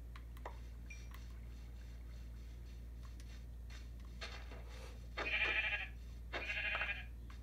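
Two short, bright sheep bleats from Minecraft, one after another and a little apart, over a low steady hum and faint background clicks.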